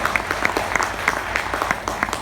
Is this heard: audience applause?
yes